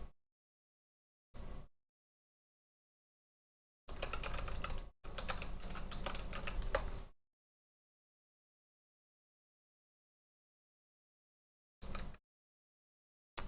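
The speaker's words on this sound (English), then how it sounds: "My typing is wonderful today." Quiet bursts of typing on a computer keyboard, a few brief taps and then a longer rapid run of clicking keys, separated by silence.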